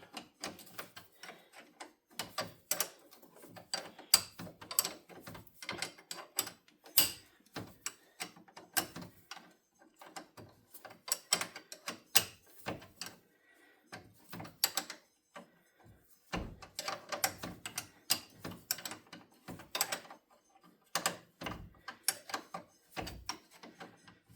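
Ratchet tightening a bolt during brake work on a Polaris Sportsman ATV, with quiet intermittent clicking bursts and short pauses, fairly faint and close.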